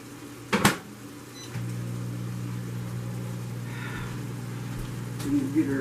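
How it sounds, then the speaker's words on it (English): Microwave oven heating a dish of cream cheese for a dessert bar, a click and clunk followed by a steady low hum that runs on evenly, with a faint rattle near the end. "let's pop this in the microwave for about a minute"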